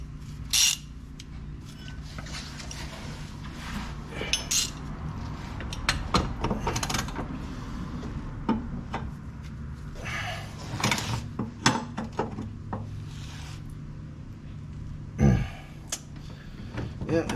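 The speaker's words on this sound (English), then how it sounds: "I'm just gonna do a wrench and socket" A wrench and socket work a 19 mm bolt loose on a BMW E30 during a rear five-lug conversion, making intermittent ratcheting clicks and metallic clanks at close range.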